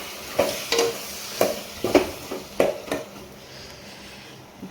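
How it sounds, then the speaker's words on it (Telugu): Chopped tomatoes tipped into frying onions for an egg curry, giving several distinct scraping stirs and soft wet thuds over a low steady sizzle, close by. "ఇప్పుడైతే కట్ చేసి పెట్టుకున్న టమోటాలను కూడా వేసుకోవాలి"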